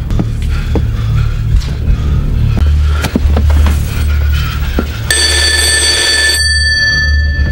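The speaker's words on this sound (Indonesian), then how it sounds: "Louis dan Tom langsung menjawab telepon dari psikopat" A telephone in a motel room in a thriller film rings out loudly in one bright, sustained burst near the end, following a stretch of low rumbling and scattered knocks.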